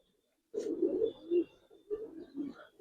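Giribaz pigeons coo in a run of low, throaty phrases close by, starting after a brief silence and pulsing unevenly with short gaps between bursts.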